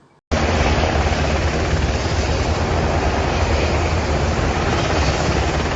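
Loud, steady roar of landing military helicopters' rotors and engines, continuous and close, starting abruptly after a brief quiet moment.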